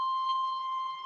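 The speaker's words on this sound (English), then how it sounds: "Beep, beep, beep, beep, beep, beep, beep, beep, beep, beep." A steady, close electronic alarm tone sounds alone, one shrill sustained beep with a slight pulse, clean and fairly loud against silence.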